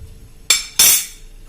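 Grated carrot is stirred into a baby food mixture, giving two sharp, close metallic clinks of a utensil in quick succession against a quiet background with no talking.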